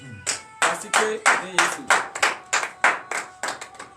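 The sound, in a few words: congregation clapping hands in praise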